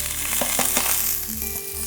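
Vegetables tossed into a hot, oiled pan sizzle loudly and steadily up close, with a few sharp clicks and scrapes of stirring breaking through the constant hiss.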